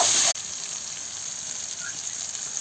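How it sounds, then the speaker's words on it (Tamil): Finely chopped tomatoes sauté in a pan for a village-style chickpea and brinjal kara kuzhambu. A loud burst of sizzle opens, then a steady hiss of frying carries on throughout. "இதுவும் இதோட நல்லா மிக்ஸ் பண்ணி நல்லா வதக்க போகிறேன்"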